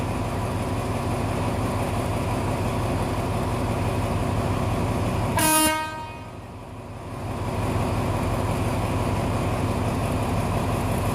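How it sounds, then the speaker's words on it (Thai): Ordinary suburban train 313 pulls out of Bangkok station: a steady rail rumble runs throughout, broken midway by one short, bright horn toot. "ขบวนธรรมดา ชานเมืองที่313กำลังจะออกจากสถานีกรุงเทพ"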